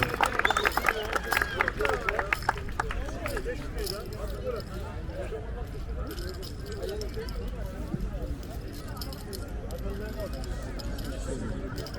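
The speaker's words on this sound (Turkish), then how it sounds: "Birinci takımımız, şampiyon takımımız Ekiz Bey Spor büyük alkışlarla madalyalarını ve kupalarını alıyor." Crowd claps for the champion team Ekizbey Spor receiving medals and trophies at an award ceremony, a dense burst of applause that is strongest at first and then settles under steady crowd chatter and talking voices.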